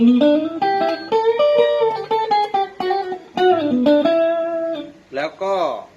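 A Peavey Raptor Custom electric guitar plays through its pickups a run of sustained notes that step and bend in pitch, fairly loud and close, ending with a brief wavering tone.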